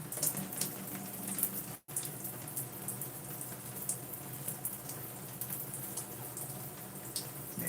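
Water applied to hair during styling, a continuous soft hiss and trickle like a spray or stream, steady and close, broken by one brief silent gap near the start.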